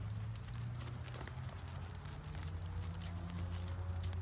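Hooves of a ridden horse walking during neck-rein training, a steady soft clip-clop running through the clip at moderate distance under a low rumbling background, with no voices.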